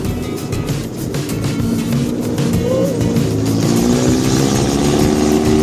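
A jeep engine drones steadily during an off-road ride past rice fields, with a rumbling, shifting tone and rattling jolts that build slightly louder, heard from inside the moving vehicle with no talk.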